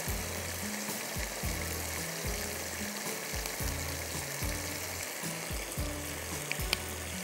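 Soy sauce hits a hot pan of garlic lemon shrimp, setting off a steady, close sizzle and frying crackle with rhythmic stirring scrapes running through it.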